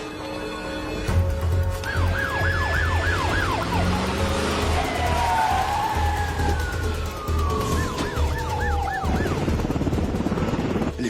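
Police siren approaching: repeated rising and falling wails that come and go over a low rumbling background, clearly audible and growing prominent, with no talking.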